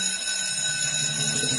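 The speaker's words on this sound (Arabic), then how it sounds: "حسنا حان وقت إطلاق الإنذار" A cartoon fire alarm at a fire station training tower rings as a steady, shrill electronic tone with a faint pulsing edge, loud and continuous from start to finish, with no voices.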